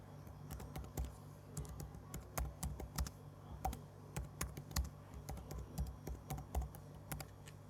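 Fast typing on a computer keyboard, a steady stream of crisp, close key taps in irregular bursts over a faint low hum, quiet overall with no talking.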